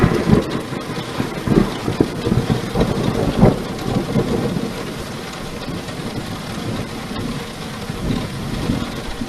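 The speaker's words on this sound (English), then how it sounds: "I heard sound of thunder." A recording of a thunderstorm plays back with steady rain hiss and low rumbling thunder rolls, heavier in the first few seconds, then a continuous wash of rain without any voices.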